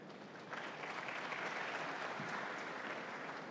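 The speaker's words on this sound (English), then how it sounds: "Let's give him a round of applause" Audience applause at an agriculture forum session, steady dense clapping from a large crowd lasting several seconds without pause.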